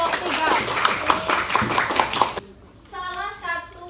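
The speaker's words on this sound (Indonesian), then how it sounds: "Beri tepuk tangan untuk kelompok 3." Children in a classroom clap for a group of classmates, a quick ragged burst of hand claps with kids' voices mixed in, then the clapping stops and a voice carries on alone.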